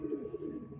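Breeder pigeons in a loft give soft, low, continuous cooing, close and fairly quiet, with a gentle rolling rhythm throughout.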